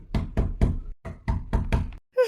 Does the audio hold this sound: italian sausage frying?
no